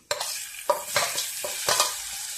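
Fish dropped into hot oil in a pan, bursting into sizzles: several sharp crackling spurts in succession over a constant bright hiss of frying, close and fairly loud, with no voices.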